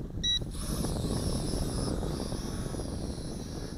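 A YH-13HW 720p FPV toy drone runs an automatic takeoff outdoors in a light breeze, its propellers spinning up into a steady high whine after a few short beeps, close and constant.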